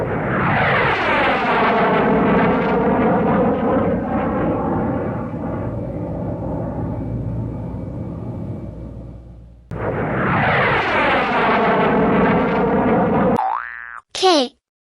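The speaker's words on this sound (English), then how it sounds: "J for jet." A cartoonish jet sound effect plays twice: a loud whooshing tone that sweeps downward and fades, then repeats after a brief gap, ending with a short bright chime.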